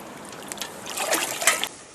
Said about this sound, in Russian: Ух ты, как далеко стало черпать воду.